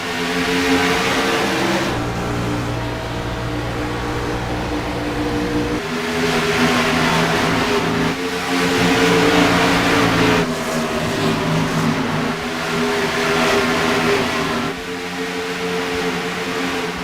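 Race cars accelerating at Kentucky Motor Speedway: loud, sustained engine roar with layered droning tones that shift pitch as cars pass in waves, steady throughout with no talk.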